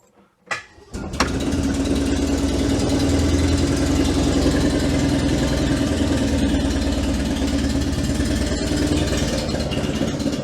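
An Invacar's small engine catches after a brief starting effort and settles into a loud, steady, close idle that runs without a break, with no talk over it.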